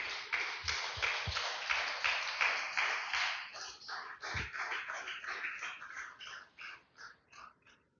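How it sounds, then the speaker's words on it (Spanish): Loud congregation applause fills a church service, dense claps sustained at first, then thinning into scattered claps that fade out toward the end. "Den un fuerte aplauso al Señor, aleluya."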